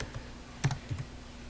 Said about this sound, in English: So I'm going to start typing a word